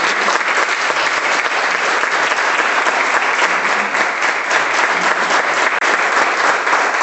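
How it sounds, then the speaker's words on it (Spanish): An audience at a lecture on money laundering and narcoterrorism gives loud, sustained applause, thick continuous clapping with no pause, close and filling the room. "Les pido por favor un aplauso para acompañarnos."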